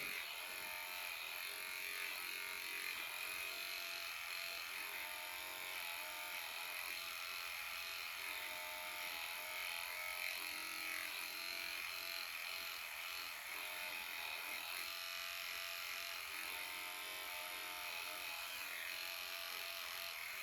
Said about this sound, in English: I'll just get my little trimmer, just scoop that away a little bit.